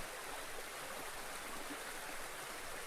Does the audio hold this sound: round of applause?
no